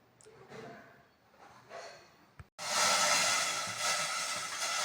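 A mixer grinder coarsely grinding roasted ingredients for kadambam rice: after a couple of seconds of quieter handling sounds, the motor starts abruptly with a loud, steady, close whirring roar that continues to the end.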